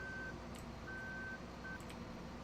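Tractor reverse alarm in Farming Simulator 2015 while backing onto a trailer: a steady tone beeps three times at uneven lengths over a constant engine drone, clear and close.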